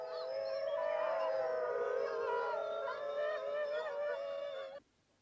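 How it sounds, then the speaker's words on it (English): A long, wavering howl from a young wolf cub calling for its mother, rising and bending in pitch, holding for several seconds before cutting off abruptly; other voices blend faintly. "this same noise made here by a wolf cub howling for its mother"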